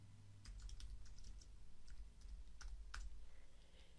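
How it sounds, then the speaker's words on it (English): Quick, light keystrokes on a computer keyboard in bursts of clicks, close and fairly quiet, with a pause between runs of typing. "I'm going to press the Return or the Enter key on the keyboard to add another line of type on the same type layer."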